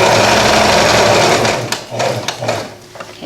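A sewing machine stitching a side seam on an upcycled garment runs steadily and loudly for about a second and a half, then slows into a few separate thumps and short bursts as it stops and starts.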